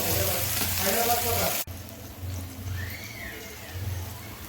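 Onion and tomato frying with a spoonful of salt in a pan, giving a close, loud hiss and crackle that drops abruptly partway through, leaving a quieter sizzle with light stirring to the end.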